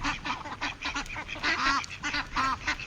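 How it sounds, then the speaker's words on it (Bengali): Ducks and ducklings, including white Muscovy ducks, quack and honk in a busy overlapping chatter of repeated nasal calls close by, with no talking over them. "কয়েকটা রানা হাঁসের বাচ্চা দেখেছো মা?"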